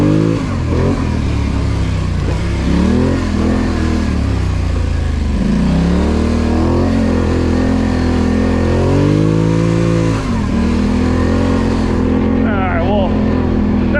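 ATV engine running a quick lap around sand dunes, a loud, close, continuous growl that rises and falls with the throttle through turns and chutes, with wind buffeting throughout.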